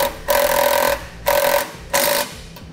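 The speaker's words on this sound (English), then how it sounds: "Then I'll use a 7/16 socket and wrench" A 7/16 socket and wrench tightening a nylon lock nut on a Blue Ox base plate on a 2016 Chevrolet Traverse, heard as three evenly spaced bursts of rapid ratcheting, close and loud.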